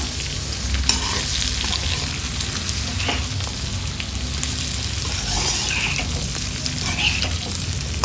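Onion and pork being stirred and mixed in a frying pan for Coorg-style pork chilli, a steady close sizzle with scraping spatula strokes throughout, no talking.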